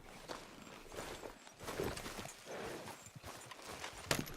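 Horse hooves clip-clop at a steady walking pace on ground in the video game Red Dead Redemption 2, close and even, with no talking.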